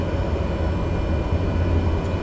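An aircraft taxis in Microsoft Flight Simulator 2020, giving off a steady, loud, low engine drone that stays even throughout with no talking.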